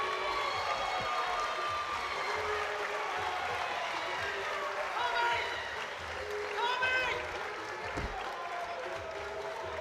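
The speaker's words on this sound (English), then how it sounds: "a round of applause for both boxers who gave everything" A boxing fight-night crowd applauds both fighters after the bout, a steady wash of clapping and cheering filling the arena while voices carry over the noise.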